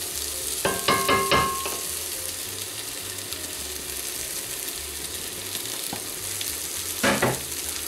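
Ginger, garlic, chili and paprika fry in a pan for a lamb rogan josh, a steady close sizzle with a few sharp bursts of stirring clatter near the start and again toward the end.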